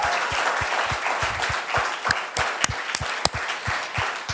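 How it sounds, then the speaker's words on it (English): A room full of guests breaks into applause, dense clapping with some sharp individual claps standing out, moderately loud and sustained throughout. "a thundering round of applause for the verdict"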